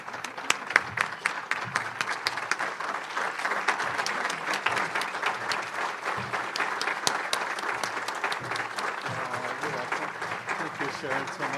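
Audience applause at a Rotary Club of Madison meeting, a sustained, even wash of many hands clapping that carries on for over ten seconds, fairly soft and slightly distant in the room.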